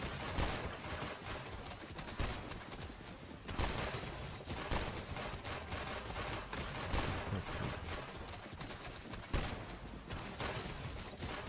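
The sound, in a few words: gunfire in a video game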